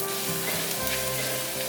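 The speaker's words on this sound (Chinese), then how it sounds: "锅内放入少许油，油热了之后放入姜丝，把姜丝炒香。" Shredded ginger stir-fries in a little hot oil in a wok, giving a close, steady sizzle with a soft hiss and no talking.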